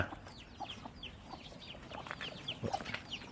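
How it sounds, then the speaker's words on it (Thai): Chickens kept on a Thai farm cluck softly over a low background murmur, several birds making short overlapping calls that grow a little busier toward the end; fairly faint and unaccompanied by talk. "ดูน้องต่อเก็บไก่ก่อนครับ"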